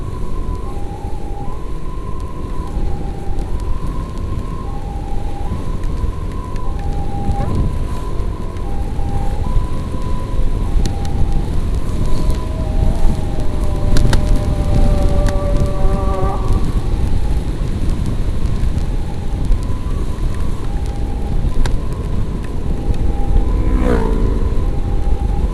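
Heavy rain pours during an ambulance escort ride from Nagreg, a loud, continuous wash of noise under a repeating two-tone siren wail.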